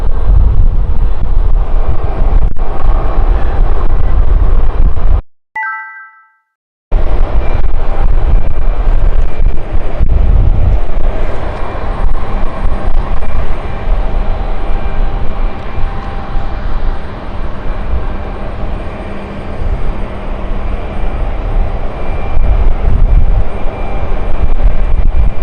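A KLM airliner at London City Airport gives off a steady, strong jet engine roar with wind buffeting. The roar drops out briefly while a short electronic tone sounds, then resumes and continues throughout.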